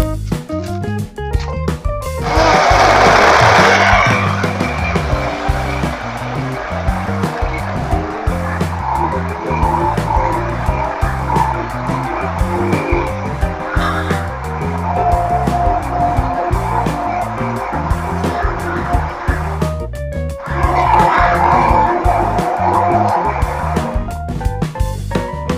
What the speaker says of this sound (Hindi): इसको ब्लेंड करना है।